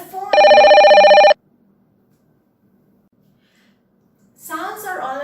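A telephone rings loudly in a single burst of about a second, followed by silence and then a voice.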